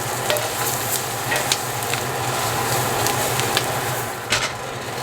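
Beef stew ingredients sizzle and fry steadily in a hot pot, a continuous close crackle with occasional stirring scrapes and small pops, no talking.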